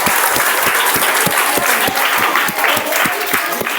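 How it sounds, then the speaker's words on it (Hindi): Schoolchildren at a result celebration in a Jharkhand residential school clap together, loud and close, with sharp, evenly spaced beats forming a steady rhythmic applause throughout. "बहुत ताली मारिए, ताली मारिए।"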